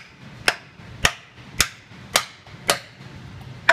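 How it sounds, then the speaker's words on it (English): A hammer taps an alignment tool to drive out a pilot bearing, six sharp metallic strikes at an even pace roughly half a second apart, close and loud with no talking. "Go back for our alignment tool. Rest it in there. And I'm going to start tapping again."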